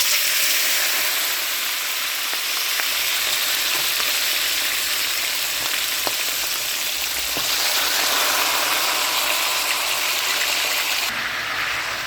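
Pork pieces fry slowly over low heat in oil in a Tefal pan, giving a dense, continuous close-up sizzle that holds steady and fairly loud for the whole stretch with no talking.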